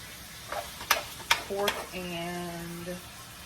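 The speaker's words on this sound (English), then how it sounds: "go ahead and stir fry my onions" Onions stir-frying with ground pork and turkey in a pan, a few sharp utensil scrapes and clacks over a steady sizzle, with a brief tonal squeak near the end.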